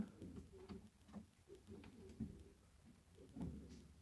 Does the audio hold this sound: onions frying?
no